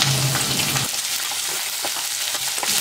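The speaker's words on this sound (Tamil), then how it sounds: "இப்போ வெங்காயம் போட்டுக்கலாம், அது கூட பச்சை மிளகாவும் போட்டுக்கலாம்." Onion and green chilli hit hot oil in a pan for kara kuzhi paniyaram, giving a steady, fairly loud broadband sizzle throughout, with a low hum in the opening second and a few light clicks of stirring.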